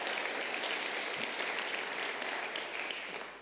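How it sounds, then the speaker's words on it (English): A church congregation claps in sustained applause at a Sunday morning service, a dense, even roar of hands that holds steady throughout and fades slightly toward the end, with no voices over it. "Yeah, again, a round of applause."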